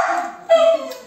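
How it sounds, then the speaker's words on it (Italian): A pet dog gives a short burst of high, tonal barks and yips, loud and close, with a whiny edge, rising sharply midway through the brief moment. "anche il mio cane dice di sì"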